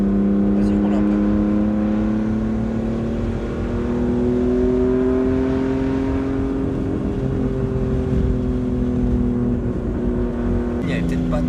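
A BMW turbo car drives with a sustained engine drone that rises slowly in pitch as it accelerates, loud and close from inside, with people talking over it.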